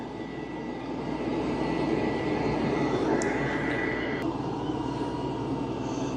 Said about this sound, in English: It's actually doing a pretty good job of vacuuming.